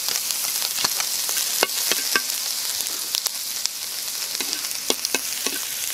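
Chicken gizzards and garlic fry in a pan for a Bicol Express dish, making a steady loud sizzle with scattered pops and crackles and occasional scraping stirs, all close by with no voices.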